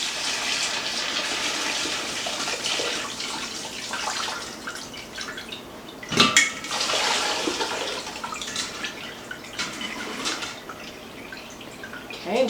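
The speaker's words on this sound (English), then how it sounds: "just let that all drain out" Liquid draining out of a container of lime peels while making limoncello from limes, a steady wet trickle and patter with a brief louder splash partway through, heard close and without talk.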